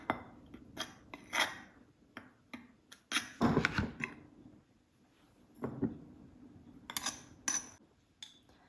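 A utensil stirs batter made with egg and salt in a bowl, giving soft scrapes and light clinks in irregular bursts, close and fairly quiet, with no talking.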